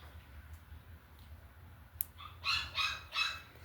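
A caged dog gives a few short, fairly faint barks near the end, three quick yips over quiet room hum after a single sharp click.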